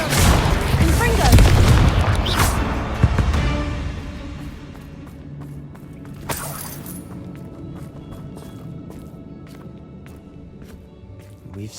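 A Confringo fire spell bursts in Hogwarts Legacy: a heavy, booming blast early on, then a rumbling tail that fades into quieter ambient game sound with a later smaller crackle.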